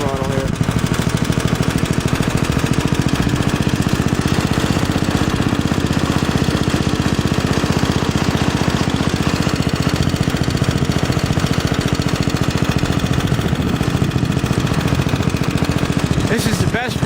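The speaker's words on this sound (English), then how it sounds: "This is the best running Briggs engine I think I've ever dealt with." A Briggs engine on an old Speedex tractor runs steadily with a rapid, loud mechanical chatter, revving up slightly under throttle while someone talks over it.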